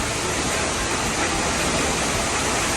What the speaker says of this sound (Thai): เสียงน้ำตกที่ตกกระทบหินค่อนข้างดัง